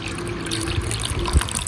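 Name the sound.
pouring ethanol onto plant explants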